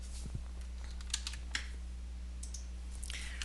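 Keystrokes on a computer keyboard while entering PHP code, a sparse run of light clicks over a steady low electrical hum, fairly quiet and close.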